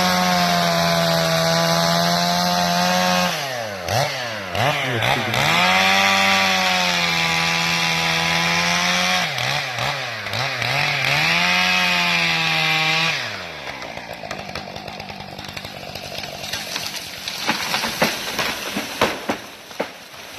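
A chainsaw engine runs loud and close, revving up and down in repeated swells for about thirteen seconds before cutting back to a quieter, rougher idle, with no talking.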